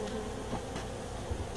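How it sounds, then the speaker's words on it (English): Honey bees from a hive built inside a house give a steady, dense buzz that hums on without pause, close and moderately loud, with no voices. "we're going to shake the bees off"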